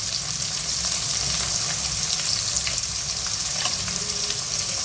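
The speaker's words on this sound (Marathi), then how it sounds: "बटाटा तर छानपैकी हलवून घेऊयात" Mixed vegetables with potato, carrot and eggplant for a Sankranti bhaji fry in a pan, a close, continuous sizzle with soft scraping as they are stirred, no voices.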